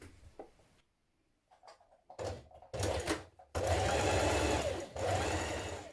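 A sewing machine runs stay stitching around a dress neckline, starting with a few short hesitant bursts and then settling into a loud, steady close-up whir of rapid stitching with one brief pause.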